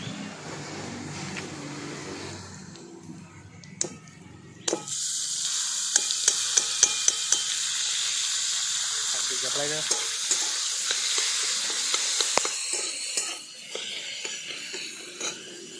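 Chhana being stirred into lightly fried dry fruits in a hot pan while making sarpuria sweets, a close, steady frying sizzle with repeated scraping and tapping of the spoon against the pan and no talking.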